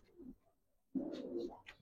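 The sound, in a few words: pair of pigeons cooing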